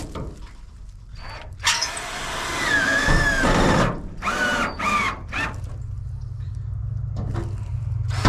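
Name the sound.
power drill driving screws into a grain silo coop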